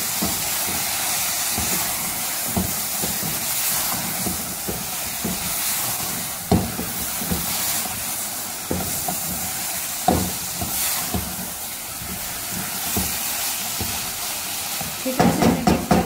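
Sizzling hiss of bitter gourd and sliced onions with green chilies and coriander being stirred in a hot pan, a steady frying wash broken by occasional scrapes and clinks, with a cluster of sharper utensil knocks at the end.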